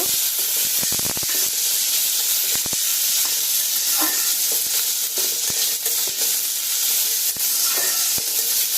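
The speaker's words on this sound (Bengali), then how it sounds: "এই সময়ে সিদ্ধ করে রাখা ডুমুরটা এই পেঁয়াজের সঙ্গে দিয়ে একটু ভেজে নেব।" Boiled figs fry with onions in a hot pan, giving a loud, continuous sizzle and hiss punctuated by scattered clicks of stirring, with no talking.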